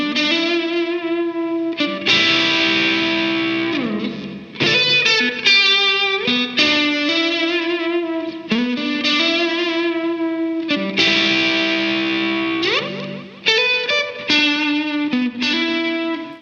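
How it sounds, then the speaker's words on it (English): Distorted Stratocaster electric guitar playing chords and melodic lines through the delay setting of a Boss RV-2 digital pedal, each note trailing into repeating echoes, loud and continuous. "I'm back on the Strat, and I'm using the delay setting of the RV-2."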